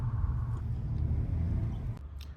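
A Golf 8 GTI fitted with an aftermarket downpipe rumbles with a deep, steady low exhaust drone, heard briefly from fairly close by.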